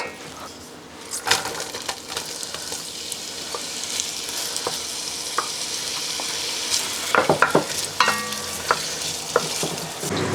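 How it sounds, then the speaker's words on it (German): Ghee sizzles and crackles in a pot as frying begins for a one-pot cabbage stew, a steady hiss broken by scattered pops and stirring clinks, heard close with no talking. "Zum Anbraten nehme ich jetzt etwas Ghee"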